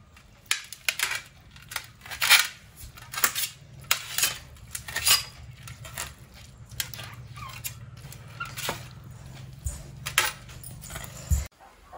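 Boiled goat intestine being cut for gravy, a series of close, irregular knife taps and clinks against a plate or board, some sharper than others, over a low steady hum, with no talk.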